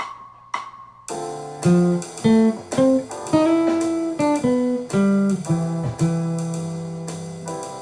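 A solo trumpet plays a phrase of distinct sustained notes over accompanying chords, a jazz line with pauses between short runs, no voices.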